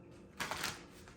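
A short riffle of tarot cards being shuffled close by, one soft papery burst in an otherwise quiet room.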